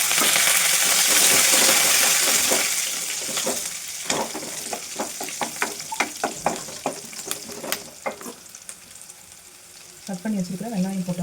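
Garlic and curry leaves fry in a hot pan for a cumin curry, a broad sizzle at first giving way to sharp stirring taps and scrapes of a utensil against the pan, with frying continuing underneath.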